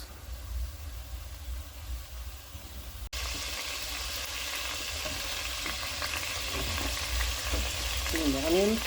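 Ghee heating in a pot for prawn curry, giving off a continuous close sizzle and bubbling that grows slightly louder after a brief gap, with faint movement sounds.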